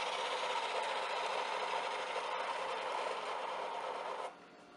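Freshly cleaned inline skate bearings, roller hockey type, spin freely with a steady, fairly loud whirring hum that holds evenly for about four seconds, then drops abruptly to a softer, fading whir.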